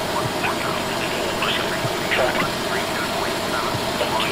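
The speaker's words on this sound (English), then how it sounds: "Starting engine number. 2. Start valve open." Engine number 2 of a CRJ regional jet spools up during start, a steady loud roar and hum with a whine on top, heard from inside the aircraft while voices talk faintly underneath.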